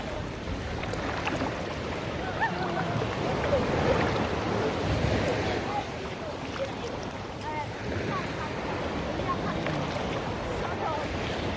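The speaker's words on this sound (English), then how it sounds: "Sea's rough." Rough sea waves washing ashore at a fishermen's beach village in Ocho Rios, Jamaica, a steady roaring wash of surf mixed with gusty wind noise on the microphone, continuous and moderately loud.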